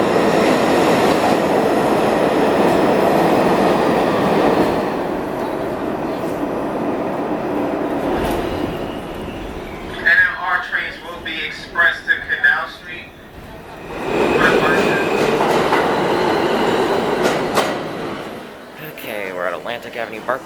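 A New York City subway train ride heading toward Flushing, with a loud steady rumble of the moving car, rhythmic rail noise, squealing wheels in bursts, and people talking over it.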